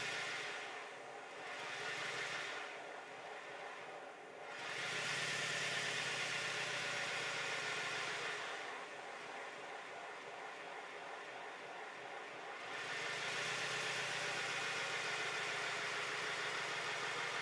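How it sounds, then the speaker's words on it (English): A model Stirling Single live steam engine spins at high speed with a faint, steady mechanical whir and rapid chuffing. The sound swells and eases in alternating stretches, with no voices. "I need to spin up the engine to a really high speed and make sure nothing falls off it"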